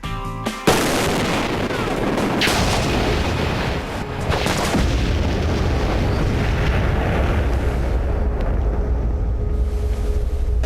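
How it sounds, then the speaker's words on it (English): Low-speed explosives such as dynamite and ammunition detonate in a few deep, throaty booms, one sharp blast followed by heavy rolling rumble that fills the clip, with no voices. "Low-speed explosives like dynamite and ammo, they have a much throatier thud"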